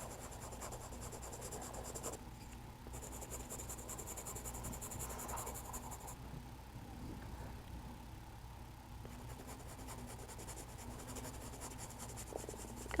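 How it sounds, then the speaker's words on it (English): Soft, continuous scratchy rubbing of a charcoal pencil on paper, light small circular shading strokes repeating steadily and close, with a faint background hum. "I'm applying the charcoal in little circles."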